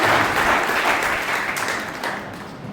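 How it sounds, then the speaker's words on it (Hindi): Audience applause after a song at a Mother's Day program at a Brahma Kumaris centre in Burhanpur, a dense steady wash of clapping that fades slightly toward the end, with no talking. "बहुत बहुत धन्यवाद प्रीति बहन। तालियां प्रीति बहन के लिए"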